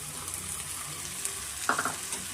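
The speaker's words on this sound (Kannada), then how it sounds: "ಅಲ್ಲಿವರೆಗೂ ಸ್ವಲ್ಪ ನಾವು ಚೆನ್ನಾಗಿ ಫ್ರೈ ಮಾಡ್ಕೊಬೇಕಾಗತ್ತೆ" Onion, ginger garlic paste and tomato puree fry in a pan for an egg pepper fry, a steady close sizzle with a brief stir or scrape near the end and no talking.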